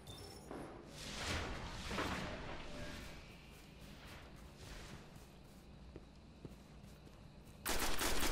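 Charged fusion gun shots in a Destiny Crucible multiplayer match, with a few loud, sustained bursts of energy fire over constant game noise and a sharp, loud blast at the end.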